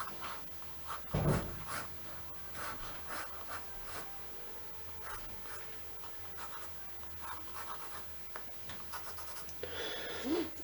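Pencil scratching across paper in short strokes and lines, fairly quiet and close, with a brief louder thump near the start and no talking.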